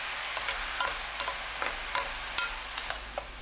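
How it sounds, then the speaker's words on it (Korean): Sauce bubbles and sizzles in a hot pan of braised tofu as it is flipped, a soft steady frying hiss broken by a few quiet clicks and stirring taps. "잔열로 양념이 바로 끓어오르는데 두부를 뒤집어 줍니다"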